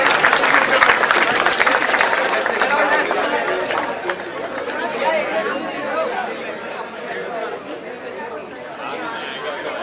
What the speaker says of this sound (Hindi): तालियां बजाते रहो यार